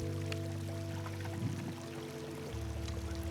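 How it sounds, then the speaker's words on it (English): A water bottle filled from the River Ayr, with a soft steady pour and trickle under a constant low droning hum that changes pitch near the end. No one speaks. "I need to fill up my water bottle"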